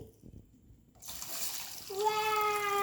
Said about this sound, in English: You going to pour the water in?